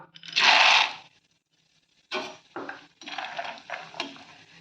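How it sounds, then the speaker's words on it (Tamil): Peanuts roast in hot oil for a Tamil ragi mixture snack, a burst of loud sizzling followed by a pause and then scraping ladle stirs against the pan with softer frying beneath. "இப்போ நிலக்கடலை பருப்பை வறுத்துக்கலாம்"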